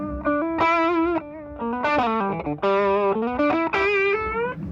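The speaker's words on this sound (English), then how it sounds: "it's a very warm and very uncompressed overdrive" Electric guitar runs through an Electro-Harmonix overdrive pedal with a warm, uncompressed, amp-like drive, sustained notes and short bends in a few phrases, close and moderately loud with no talking.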